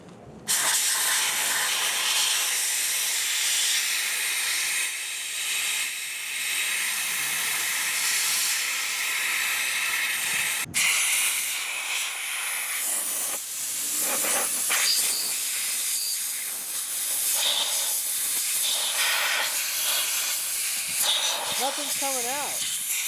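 A soda blaster sprays baking soda after being unclogged, giving a loud, steady hiss that runs almost the whole time with a brief break partway, while voices talk over the later part.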